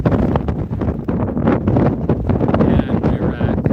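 Strong wind roars across the microphone at Mojave Spaceport, loud and gusty with constant buffeting rumble and no letup.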